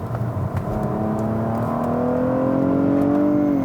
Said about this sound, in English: they have this little fake shift that just sounds really unconvincing